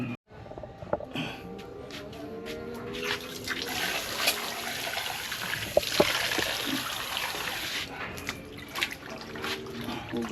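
Running water splashes steadily from a tap while a potted plant is washed outdoors to clear aphids, a continuous close hiss under occasional handling noises.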